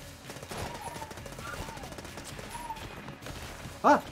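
Rapid game gunfire from a heavily modded run of Enter the Gungeon, a dense stream of small shots running steadily under background game music, ending in one louder, sharper burst.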